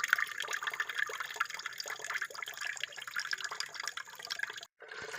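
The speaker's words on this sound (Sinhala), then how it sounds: "මේ වගේ මුට්ටියක් අරන් මේ පොල් කිරි ටික දාගන්නයි තියෙන්නේ" Coconut milk pours and trickles steadily into a pot with small splashes and drips. The sound is fairly quiet and close, and it breaks off briefly near the end.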